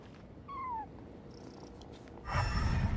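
A cat purrs softly in the Genshin Impact video game, a low steady rumble joined by a brief rising chirp and a louder burst near the end, with no talk.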